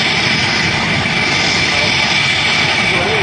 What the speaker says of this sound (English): The jet is now powering forward.